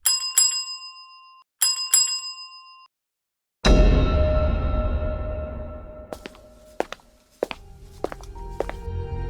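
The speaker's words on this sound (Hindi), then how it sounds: "पर एक दिन दोपहर को रिसेप्शन से घंटी बजती है।" A reception desk bell in a 2D animated hotel scene gives two bright double dings, then a deep booming impact rings out and fades, followed by scattered knocks and footsteps.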